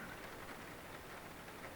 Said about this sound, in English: The rain beats a steady rhythm outside